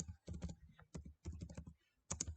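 Quick bursts of keystrokes clatter on a computer keyboard in short clustered runs with brief pauses, close and quiet with no talking.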